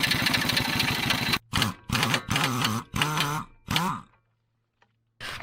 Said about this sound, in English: so I'm going to use an air gun to get that off